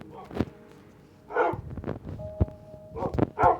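Dogs let out a few short barks and yips in scattered bursts, close by, with a brief tonal whine between them.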